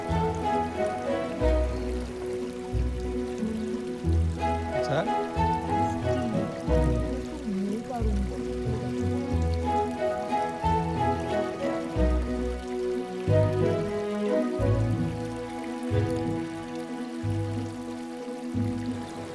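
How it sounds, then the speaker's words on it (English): The Ganga river flows below a riverside suite in Rishikesh, giving a steady, continuous rush of water that stays loud and unbroken throughout, with no voices. "we had already gotten used to hearing the flowing Ganga river below"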